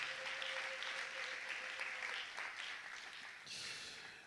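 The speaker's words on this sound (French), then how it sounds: "Est-ce que nous pouvons encore acclamer pour la gloire de Jésus?" Congregation applauding in a church, a dense steady wash of clapping that holds throughout and swells slightly near the end, with no voices above it.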